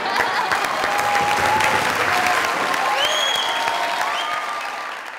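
Studio audience at a live comedy talk show clapping, a dense continuous round of applause at steady loudness that fades slightly at the end, with faint voices beneath.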